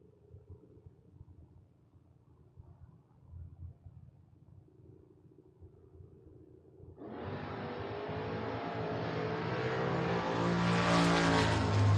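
A Camaro and a Mustang launch side by side in a Door Wars drag race; a low, distant rumble builds suddenly into a loud, broad engine roar that keeps swelling to the end.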